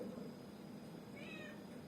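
A grey kitten with a chlamydia eye infection gives one thin, faint meow partway through, over a constant background hiss.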